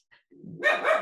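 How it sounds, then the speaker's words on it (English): A pet dog lets out a single sharp, close bark with a short lead-in yip, all over in about a second. "sorry about my dog"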